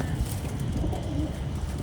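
Pigeons from a jumbo-size breeder pair coo softly and continuously, a low throaty burbling with faint background noise and no clear breaks.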